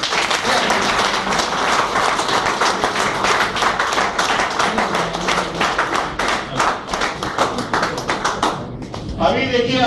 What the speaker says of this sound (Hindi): अभी देखिए आप लोगों ने एक बार ताली बजाई